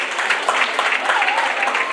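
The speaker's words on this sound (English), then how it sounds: "Clap for them." Audience clapping for students at a school address, a dense steady applause from a sizeable crowd with a faint voice briefly audible beneath it.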